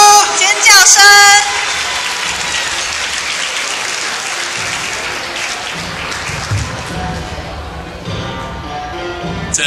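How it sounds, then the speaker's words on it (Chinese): An audience at a Parents' Day thanksgiving banquet breaks into loud, sustained applause welcoming a speaker, with a host speaking over the clapping and music playing, the crowd noise holding steady throughout. "让我们热烈掌声欢迎翁枢纽"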